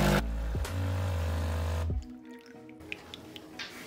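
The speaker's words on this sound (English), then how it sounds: "The sound will change and you can see now water's coming through." A Nespresso coffee machine pump hums loudly and steadily while pushing water through after a no-flow fault, then cuts out, leaving quiet drips and gurgles of water trickling through.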